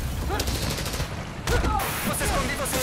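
Rapid bursts of gunfire from the video game Spider-Man: Miles Morales on PS5, a steady rattling fusillade running throughout with a heavier volley midway, mixed with game ambience and brief voice sounds.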